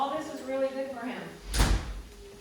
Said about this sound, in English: opening the door